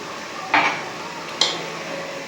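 A metal spoon stirring spices and about a cup of milk into palak gosht in a pot, with a few sharp scraping clanks spaced apart over a low, quiet background.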